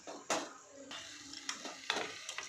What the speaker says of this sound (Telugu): ఇప్పుడు దీంట్లో మనం చికెన్ యాడ్ చేసుకున్నాం